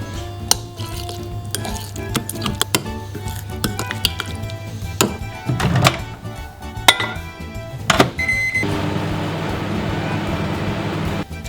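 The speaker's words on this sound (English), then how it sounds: "bung the whole thing in the microwave and heat it on full power" A microwave oven set to full power heats a pizza cone filling. A series of dish and door clatters and knocks comes first, then the oven settles into a steady, even running hum for the last few seconds, with no speech.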